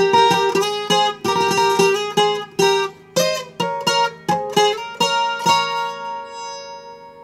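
Requinto guitar playing a melody at a fairly fast pace, bright plucked notes in quick clusters with short gaps, close and alone, ringing out at the end.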